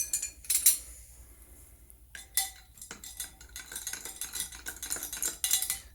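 A spoon stirs lemon juice into sattu sharbat in a glass, clinking and scraping against the sides in quick, irregular bursts, close and fairly quiet.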